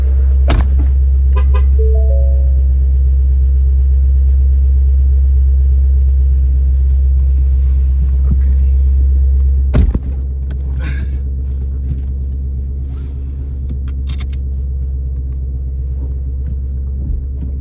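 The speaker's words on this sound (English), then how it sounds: "so I'm just letting the car warm up just a little bit on quiet mode or normal mode." A car engine idles while warming up in quiet mode, a loud, steady low rumble with faint clicks and a brief tone early on, then a slight drop in level partway through; no one speaks.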